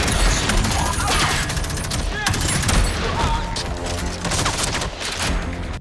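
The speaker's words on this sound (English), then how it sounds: "why do they always make the gunshots sound so cool in these trailers but then not in the actual game?" Rapid bursts of gunfire and crashing impacts from a Crysis 3 video game trailer, dense and loud throughout, with automatic fire, booms and mechanical clatter layered over one another and a voice speaking beneath.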